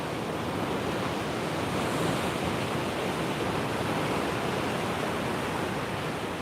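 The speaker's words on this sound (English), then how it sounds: "Hear the sound of the ocean, how powerful it is." Powerful ocean waves break continuously on the shore, a loud, steady broadband roar of surf with no voices.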